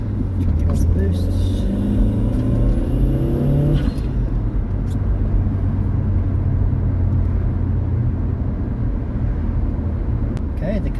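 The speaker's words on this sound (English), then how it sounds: "The turbo flutter onto the diverter valve sounds choppier." A VW MK4 GTI with a 1.8T turbo engine and a new intercooler accelerates with a rising engine note, then lets off with a choppy turbo flutter at the diverter valve. A steady loud road drone runs throughout.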